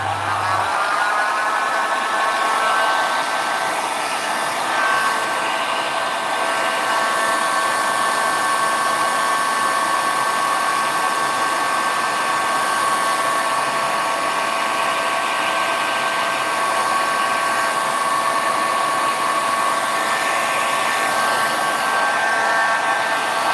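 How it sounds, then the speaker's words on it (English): A heat gun set to low air and low heat warms poured resin on perspex, giving a steady, close, continuous whirring hiss with a faint motor whine that holds unchanged throughout, with no talking. "So I'm going to use my heat gun. I'm just going to use it on low."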